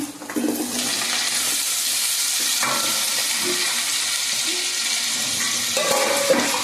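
Tomatoes hit a pan of frying onions, green chillies and curry leaves, giving a loud, steady broadband sizzle with a few brief stirring clatters throughout, and no voices.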